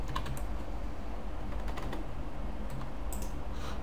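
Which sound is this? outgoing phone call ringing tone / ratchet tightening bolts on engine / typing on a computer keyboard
typing on a computer keyboard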